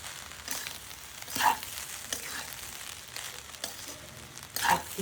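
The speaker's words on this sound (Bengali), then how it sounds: "এখন ভালো করে নাড়াচাড়া দিয়ে" Fried rice being stirred in a pan with salt and sugar added, a soft sizzle under scraping spatula strokes, with two louder clanks of utensil against pan standing out.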